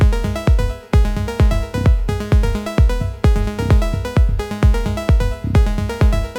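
A looping sequence from an Ableton Drift subtractive synthesizer, with punchy rhythmic notes repeating in a steady groove and a rich harmonic tone, loud and close with no voices.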